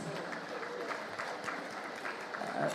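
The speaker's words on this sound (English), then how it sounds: "A round of applause, please." An audience at a food security summit applauds steadily for the whole stretch, a dense patter of many hands filling the hall without pause.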